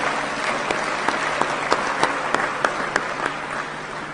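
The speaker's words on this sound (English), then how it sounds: "He deserves a huge round of applause." Audience applause for the president at a live event, a full, steady sheet of clapping with sharp individual claps standing out near the mic.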